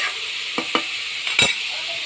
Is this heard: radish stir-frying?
yes